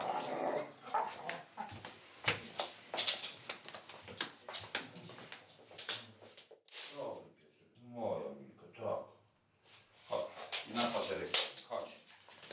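A dog whimpers and whines in short bursts, mixed in with continuous close talking from people.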